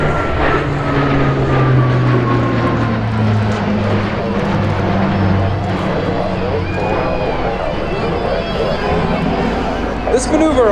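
An Alenia C-27J Spartan turboprop transport performs aileron rolls in a flying display at the Volkel Airbase air show, its steady propeller and engine roar filling the air beneath continuous commentary from an announcer.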